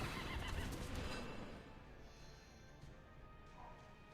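A horse in the survival game Mono Primal gives a faint whinny within a dense, noisy ambience that fades after the first second, with bird-like chirps scattered through and no talking.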